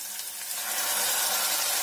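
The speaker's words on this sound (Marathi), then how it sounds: "त्याच्यामध्ये थोडस पाण्याचा शिपका मारायचा आहे" A splash of water hitting browning onion gravy in a hot kadhai, giving a steady hissing sizzle that swells slightly and holds for under two seconds.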